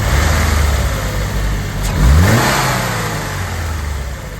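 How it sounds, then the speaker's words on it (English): A warmed-up car engine idling, then briefly revving as the throttle is pressed, the pitch rising and falling once before settling back to a steady idle, close and loud with no talk. "I can show you right now as I step on the throttle what would happen to our signal if we were to raise"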